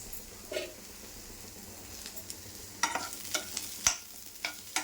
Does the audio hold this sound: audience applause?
no